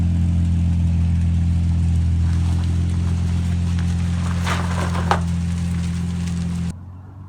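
Nissan 350Z with an aftermarket exhaust, a deep, steady low engine drone with faint revving bursts partway through before cutting off abruptly near the end.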